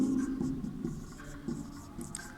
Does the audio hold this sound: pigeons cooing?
no